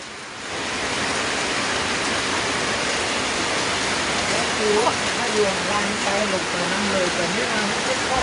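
Heavy rain and rushing floodwater roar steadily and loudly after a dam burst in a flooded village in Loei, Thailand. Someone speaks over the dense, constant wash of water.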